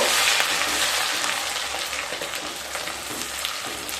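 Ginger paste and two tomatoes sizzle and crackle steadily in hot oil while being stirred, with occasional soft spatula scrapes and no talking, the frying loud and continuous throughout.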